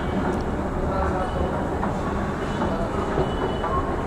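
Ride aboard a Jaipur metro train, a dense continuous rumble of wheels and carriage noise with faint clatter and squeal running steadily throughout, close and enveloping.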